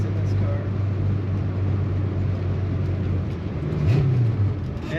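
A 1967 Ford Mustang coupe engine rumbles low and steady, then gives one short throttle rev near the end. Someone talks over it throughout.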